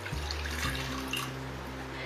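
Water is poured into a bowl of wet chocolate cake batter ingredients that already holds oil and vanilla, giving a steady close trickling splash that runs for about two seconds with no talking.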